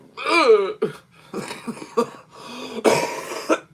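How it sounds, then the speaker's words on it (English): A cluster of rough coughs and throat clearing, close by, with a harsh burst near the end. "Okay, I deserve that cough."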